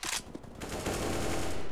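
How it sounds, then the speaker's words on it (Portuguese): Gunfire in CS:GO on the de_inferno map, a quick burst of shots followed by a sustained rapid automatic spray, fairly loud and continuous. "como é que é esses tiros"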